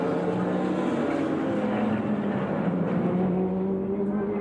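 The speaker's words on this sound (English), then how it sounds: "And they get past the Porsche of Manfred Reuter and John Winter. Going nose to nose with the Oldsmobile down into the inner loop" Toyota GTP prototype race cars roar past a Porsche and an Oldsmobile at Watkins Glen during an IMSA Camel Continental Grand Prix, a loud sustained engine drone with a rising and falling pitch as the cars pass.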